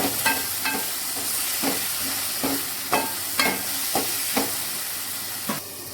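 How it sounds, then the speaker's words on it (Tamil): Drumstick pieces sautéing in a pan for a kuzhambu, a continuous oil sizzle broken by regular spoon-stirring scrapes about every half second, close and clear with no talk. "முருங்கைக்காய் ஆட் பண்ணிட்டு கொஞ்சம் நேரம் வதக்குங்க."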